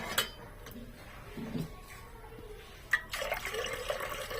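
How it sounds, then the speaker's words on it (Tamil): Water is poured into an idli steamer pot in a home kitchen, with a faint trickle and splash, a couple of sharp clinks of metal, and a fuller pouring sound toward the end. "தேவையான அளவு தண்ணி ஊற்றிட்டு ஒரு இட்லி தட்டு வச்சிடலாம்"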